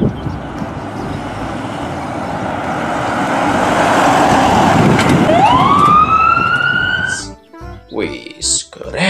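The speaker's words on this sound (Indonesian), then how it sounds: "kami lihat ada satu mobil emergency ambulans" A toy ambulance's electronic siren builds from a noisy, loud motor whine into a rising wail, then cuts off as a person starts talking close by.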